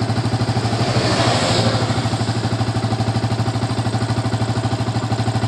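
A Yamaha Vixion motorcycle engine idles steadily at close range, a loud, even, rapid low putter with a faint mechanical clatter and no throttle changes.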